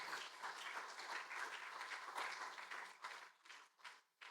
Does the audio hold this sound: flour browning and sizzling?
no